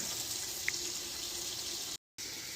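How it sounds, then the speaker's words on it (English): Tap water runs steadily into a new sous vide container in a kitchen, a soft continuous hiss and splash. A very brief gap in the sound comes near the end. "So as I fill it with water"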